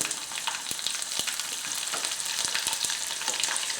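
Five or six garlic cloves crackle and sizzle steadily in hot tempering oil, with asafoetida, after the stove is switched off for a red chilli chutney, with dense continuous frying noise and scattered sharp pops close up, no talk.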